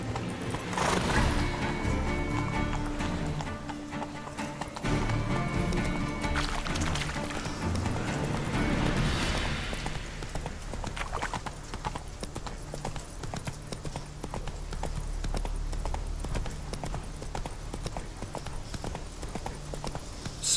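Roach, the horse in The Witcher 3, gallops hard, a rapid drumming of hooves that runs continuously under swelling game music and ambience.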